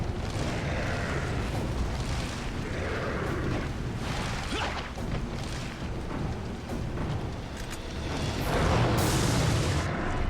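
Rocket launcher blasts in the PS4 game Resident Evil 4: a dense, continuous roar of booming explosions and rumble, loud and sustained throughout, swelling near the end.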